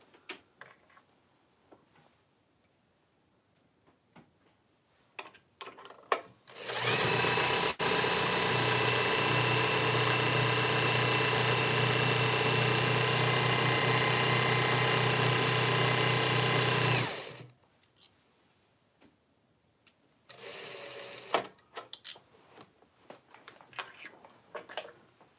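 Sewing machine winding a bobbin, a steady loud whirring motor run lasting about ten seconds, starting and stopping abruptly between quieter stretches of small handling clicks and rustles.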